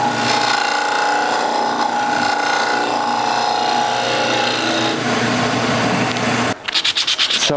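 Continuous rasping sanding against a wooden bowl, dense and scratchy, running steadily before stopping abruptly near the end.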